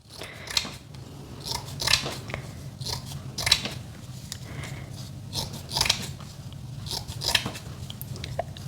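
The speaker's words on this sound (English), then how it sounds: "So I might cut, let's just cut, you know, like 3 this size, kind of squares. And let's cut some strips." Scissors snip through plaster gauze, cutting it into squares and strips, with a series of crisp, close cuts spaced about one to two seconds apart over a quiet room background and no speech.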